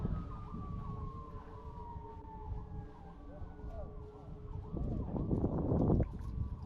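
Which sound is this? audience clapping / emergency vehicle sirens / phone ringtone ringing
emergency vehicle sirens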